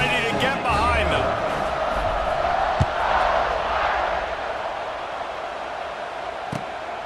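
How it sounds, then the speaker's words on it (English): A simulated stadium crowd roars steadily at kickoff in EA College Football 26, with a sustained wash of cheering and a couple of sharp thuds, while a commentator's voice runs over it. "They're set to kick it off, and this crowd now ready to get behind them."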